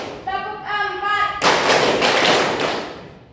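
A voice speaks briefly, then a classroom of junior high students claps together in a rhythmic counting game, a loud burst of sharp, repeated claps close by.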